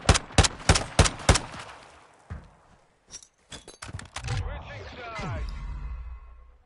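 Sharp video game gunshots crack in a quick burst of about five near shots, then sparser scattered shots, followed by a rumbling, whooshing effect, with game noise behind.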